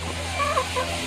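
Bhimavaram breed chickens clucking close by, a short burst of a few loud, warbling clucks over a steady farmyard background.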